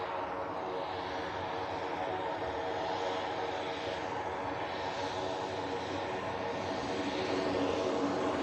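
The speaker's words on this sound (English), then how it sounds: "Silver Aviation, Pilatus PC-12." A Pilatus PC-12 turboprop of Silver Aviation at an airport gives a continuous broad engine drone, steady and moderately near across the whole span.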